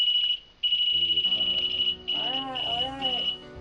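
An EMF meter alarm in a supposedly haunted house sounds in long, uneven beeps that stop and start like Morse code, loud and close, while people talk quietly beneath it.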